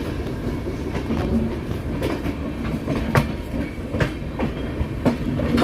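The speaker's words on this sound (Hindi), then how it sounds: "देखिए हमारे सामने से निकल रही है न्यू दिल्ली हावड़ा पूर्वा एक्सप्रेस" The New Delhi–Howrah Poorva Express rolls past close by, a steady loud rumble of rail cars with repeated rhythmic clickety-clack wheel impacts on the joints throughout.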